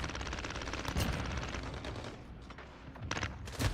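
A CX-9 submachine gun firing in the Modern Warfare video game, rapid continuous automatic bursts close and loud, with a brief pause before a final short burst.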